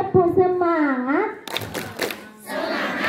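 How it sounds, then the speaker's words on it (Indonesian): A school group claps the rhythmic 'spirit clap' at an elementary school, a burst of hand claps and thumps following a child's sung chanting, with crowd noise continuing afterward. "Tepuk semangat"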